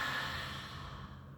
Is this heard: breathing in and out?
yes